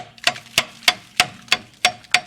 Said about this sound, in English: you're gonna tap the caliper now with the hammer